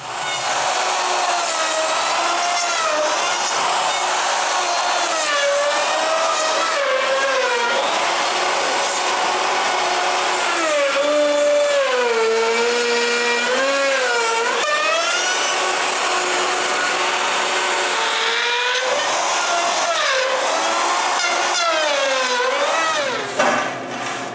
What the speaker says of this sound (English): It's as simple as running the router everywhere on the top surface